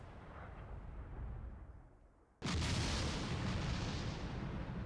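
A sudden loud explosion in the Full Metal Daemon Muramasa video game erupts midway after a quieter rumbling stretch, then a sustained roaring blast that stays loud to the end.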